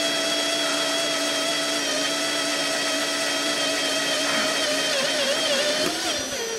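A power drill bores into metal on a Jeep AX5/AX15 shifter handle, a steady high whine holding a constant pitch for several seconds with a slight wobble near the end, close and loud with no talk.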